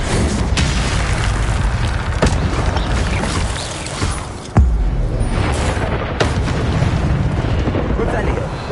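An Incendio fire spell erupts in Hogwarts Legacy with a loud whooshing burst and boom, set among ongoing combat effects and other booming impacts in a dense, noisy game mix.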